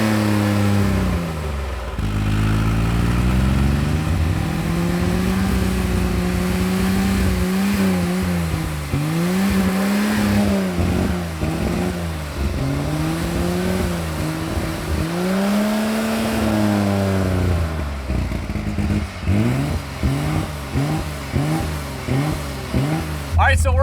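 A BMW engine idles and revs as water is poured into it to clean the pistons, producing a loud, continuous rumble with repeated rising and falling revs and some rough sputtering near the end.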